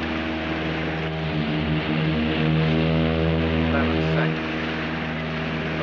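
An aircraft's jet engines run at full power as it struggles to lift off the water in a 1964 film, a loud, steady, droning roar with strong tonal harmonics holding for several seconds.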